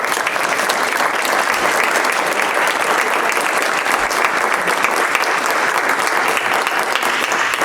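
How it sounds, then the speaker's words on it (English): Sustained applause from the audience at a school board meeting, a dense, steady clatter of many hands clapping continuously, loud and fairly close throughout. "So, round of applause again."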